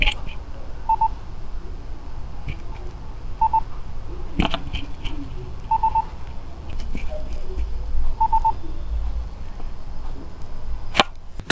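Short beeps from OnePlus Nord Buds 3 Pro earbuds confirm touch taps. They come as double and triple pulses at steady intervals over a low background hum, and a brief word is spoken.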